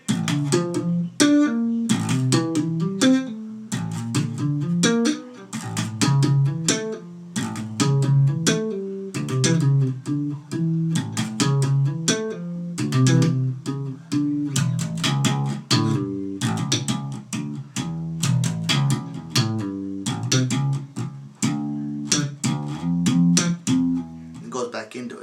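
Solo bass guitar plays a solo sequence, a dense run of rapid plucked and slapped notes with a steady rhythmic drive, close and loud with no talking throughout.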